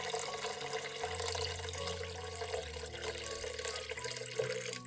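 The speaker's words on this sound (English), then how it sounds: "mix 40-degree warm water by taking 5 parts cold water and 1 part hot water" Water from a tap runs and splashes into a container as cold and hot water are mixed for defrosting meat, a steady close pouring rush.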